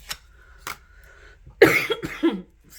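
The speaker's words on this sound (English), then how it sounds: "Normally I try to pause before I cough, but it just came out." A single harsh cough bursts out close to the mic during a quiet tarot love reading, in two rough pulses after a couple of faint clicks.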